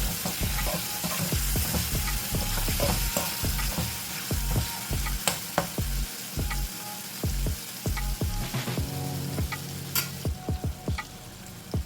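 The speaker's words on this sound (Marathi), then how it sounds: "आपण असे झाकण न देता हे कालवे शिजवून घेऊया" Oyster masala cooking uncovered in a pan; steady sizzling with frequent rhythmic scraping and stirring strokes from a spoon, close and clear, no voices.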